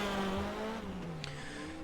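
Modified race cars roar past on a track, a loud, close engine drone with a falling pitch as they sweep by, steady and continuous with no talk.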